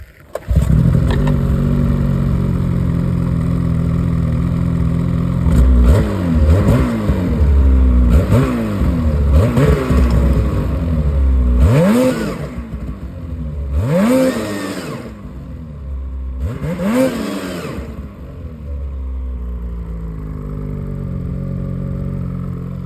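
Ski-Doo 850 Turbo R snowmobile fitted with a Diamond S titanium exhaust can idles loudly, then is blipped through a series of sharp revs, about eight rising and falling throttle bursts, before settling back to a steady idle.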